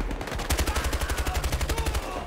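Sustained rapid automatic gunfire in the video game Battlefield Hardline on PS4, a fast even rhythm of loud shots for about two seconds with no speech.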